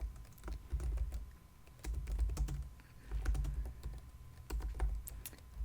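Close, steady typing on a computer keyboard while writing code, a continuous run of crisp key clicks and soft thumps in quick irregular bursts, with no talking.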